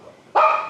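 A small friendly dog gives a single short, sharp bark up close after a moment of near quiet.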